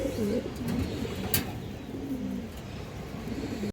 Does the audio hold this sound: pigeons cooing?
yes